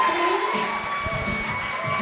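A wrestling crowd at an English Rules match cheers and shouts in a loud, continuous roar, voices rising together as the audience gets to its feet.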